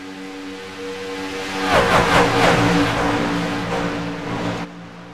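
Stock race car engines roar in the iRacing sim at Michigan as a pack sweeps past in a swelling, rising drone with shifting pitch, loud near the middle, then cutting off abruptly.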